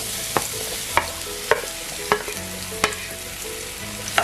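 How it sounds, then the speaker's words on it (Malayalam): Nendran banana pieces frying in ghee in a pan, a steady hiss broken by sharp regular scrapes of a spoon as the slices are stirred, close and alone. "ഈ പഴമൊന്ന് നെയ്യില് നന്നായിട്ട് വഴറ്റിയെടുക്കണം"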